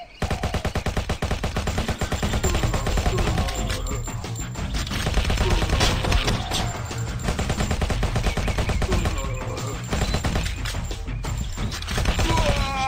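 A Tommy gun fires in the zombie video game ZIC: Zombies In City: a long, loud stream of rapid automatic shots that keeps going almost without a break, with heavy impacts mixed in.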